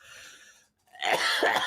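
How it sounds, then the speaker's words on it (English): A short burst of coughing near the microphone after a brief quiet gap, two rough explosive bursts close together. "I need to cough."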